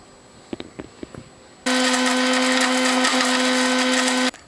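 A mixer grinder runs loud and steady for about three seconds, grinding almonds, dry dates and cardamom, after a few light knocks and taps at the start before it switches on.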